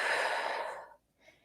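A deep inhaling breath taken during a guided energy exercise, close and fairly loud for most of a second, then trailing off into near-silence with a faint breathy trace at the end.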